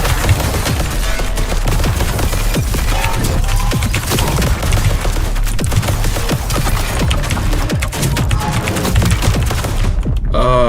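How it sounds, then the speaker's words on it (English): Air grenade blasts and heavy weapon fire from the video game Void Breaker, a dense, loud, continuous barrage of booms and rapid shots that suddenly cuts off near the end. "an air grenade"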